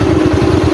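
A motorcycle engine running close by on a muddy mountain road beside a drop, heard as a loud, steady low throb with a fast regular pulse and no talk.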